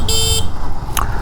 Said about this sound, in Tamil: ஹார்னோட சவுண்ட் மைல்டாக இருக்குது